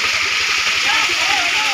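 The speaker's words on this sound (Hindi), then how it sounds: "ये पानी पहाड़ में से आ रहा है" Mountain water pouring down in a steady, loud rushing splash, close by and continuous like a small waterfall, with a voice talking over it.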